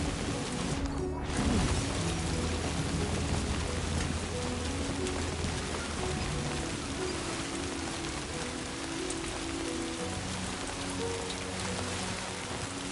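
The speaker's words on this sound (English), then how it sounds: "Something comforting about the sound of the rain though." Steady rainfall in Death Stranding patters densely and evenly on surfaces, a constant close wash of drops with a brief heavier splash near the start, heard alone without voices.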